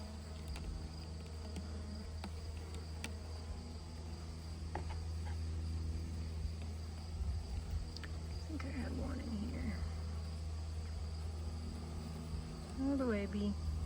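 Honey bees buzz around an open hive on a farm while the frames are worked, a steady close droning hum that swells with a few louder passes near the end.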